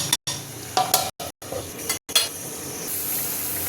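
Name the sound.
banana flower curry (mochar ghonto) cooking in pan after adding water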